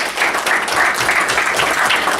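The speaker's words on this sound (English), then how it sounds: "just a round of applause" A round of applause from the crowd at a Town of Plattsburgh community meeting, a thick continuous patter of clapping hands filling the room at full strength for the whole stretch.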